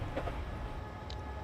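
A long 12-carriage commuter train in Train Simulator 2020 on the Brighton to London Victoria route accelerates at full throttle, a steady low rumble and drone with faint clicks running throughout, no talking.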